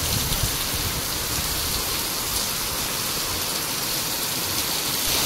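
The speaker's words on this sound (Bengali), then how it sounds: "কি জোরে বৃষ্টি হচ্ছে দেখো" Heavy downpour in the late afternoon, a dense, even hiss of rain pouring down and drumming on surfaces, constant and loud for the whole stretch with no voices.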